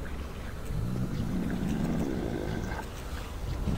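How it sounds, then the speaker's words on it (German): A deep, rumbling monster growl from a Mancubus in the video game Doom 3, rolling low and steady with rough texture across a few seconds, fairly loud and heard alone. "Das hört sich irgendwie schon wieder nach so einem Mancubus an."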